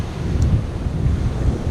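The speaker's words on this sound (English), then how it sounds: "the wind's coming towards us" Strong wind on a beach at Langney Point, Eastbourne, a constant loud rumble buffeting the microphone with a low roar of surf beneath it, with no talking.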